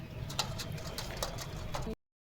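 Madras pigeons coo softly nearby in a short burst of low, rhythmic calls over a faint background before the sound cuts off.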